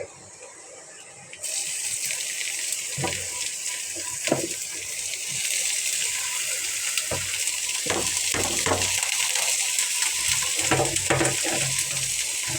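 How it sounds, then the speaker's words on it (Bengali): Chopped ridge gourd hits hot oil with softened onions and green chilies, giving a steady hissing sizzle that swells after a quieter start, with scattered clinks and stirring clatter from a utensil throughout. "পেঁয়াজটা নরম হয়ে গেছে এই তেলের মধ্যে আমি এখন চিচিঙ্গাগুলো দিয়ে দিচ্ছি"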